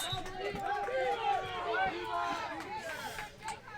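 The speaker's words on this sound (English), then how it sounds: "We just heard of Viva Mexico from the sidelines." Supporters of Team Mexico chant and cheer together from the sidelines at a Pan American Games quidditch match, a loud, overlapping crowd of voices rising and falling close by over a few seconds.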